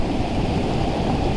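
A dense, constant roar of heavy falling water from Tumpak Sewu waterfall in East Java, Indonesia, fills the whole moment, loud and even, with no voices.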